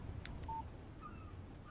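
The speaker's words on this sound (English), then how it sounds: "Text message from Barry." A text message notification on a phone in the video game Alan Wake: a few short, clean electronic tones sounding once over a low, steady ambient game background.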